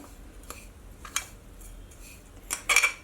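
A utensil scrapes and taps against a bowl while elayada dough is mixed, making a few scattered clinks that build to a brief cluster of louder knocks at the end over a quiet background.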